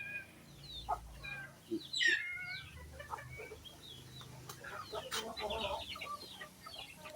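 Several native Visayan chickens cluck and chatter near and far, with a short rooster-like squawk and scattered bird calls over steady farmyard background noise.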